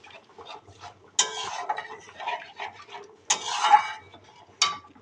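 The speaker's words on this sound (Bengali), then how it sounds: "জল দিয়ে একটু নেড়ে দিলাম।" Curry stirred in a pan after water is added, heard as intermittent scraping and clinking of a utensil against the pan in a few distinct bursts, close and moderately loud with quieter stirring between.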